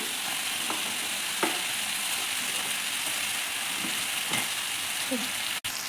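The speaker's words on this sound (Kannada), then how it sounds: "ಇವಾಗ ಹೈ ಫ್ಲೇಮಲ್ಲಿ ಇಟ್ಕೊಂಡು ಉರಿನ ನಾವು ಮಶ್ರೂಮ್ನ ಆ್ಯಡ್ ಮಾಡ್ಕೊಳ್ಳೋಣ" Mushrooms fry in hot oil over a high flame, a continuous close sizzle with occasional stirring clacks and scrapes of a utensil in the pan, no one speaking.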